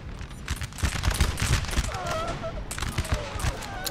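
Musket volleys from British line infantry in a Napoleonic-era battle (Bladensburg, 1814) in Napoleon Total War, dense overlapping cracks and rumbling gunfire across the scene with battle noise throughout.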